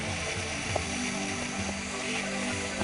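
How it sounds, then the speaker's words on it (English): Steady, high-pitched mechanical whir of a small drill running continuously as it bores holes in a gourd, with a low motor hum underneath and no talking. "what I'm doing is I'm drilling"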